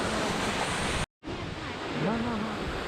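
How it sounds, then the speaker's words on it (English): Mountain stream on the Valley of Flowers and Hemkund Sahib trek: a steady, broad rush of flowing water, close and fairly soft, with a short break and faint voices in the background. "A beautiful stream flowed by,"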